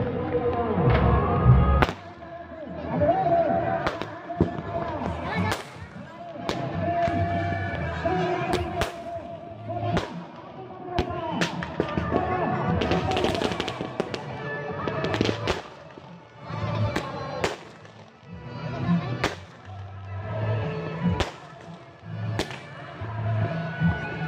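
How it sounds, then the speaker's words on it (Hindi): Firecrackers burst repeatedly at a Chhath Puja gathering by Tiril pond in Ranchi, sharp irregular cracks and pops ringing out over a busy, noisy crowd. "पटाखा फूट रहा है।"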